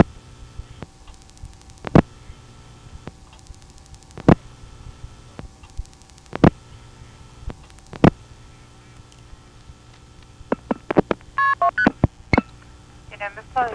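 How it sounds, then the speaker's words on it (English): A 1979 Gainesville, Georgia step tandem exchange gives a series of sharp, evenly spaced clicks over a low line hum as a long-distance number is dialed, ending in a quick cluster of tones and clicks. "I could then dial a long-distance number"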